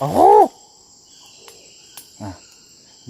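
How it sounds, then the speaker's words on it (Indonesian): In a forest in Supiori, Papua, a loud, low hooting call of a kumkum bird opens, followed after a pause by a fainter, more distant answering hoot, with insects buzzing softly underneath. "ada burung kumkum"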